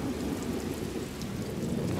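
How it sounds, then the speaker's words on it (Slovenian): Thunderstorm with heavy rain, a dense continuous hiss of pouring rain over a low rumbling roll of thunder, steady and enveloping with no voices. "tudi jaz sovražim dež, še posebej, kadar pada tako ihto"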